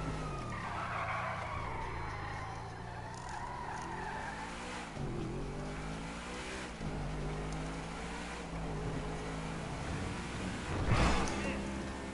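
A car in a video game drives with a steady engine drone, its tires squealing and skidding through several turns, and a louder skid near the end.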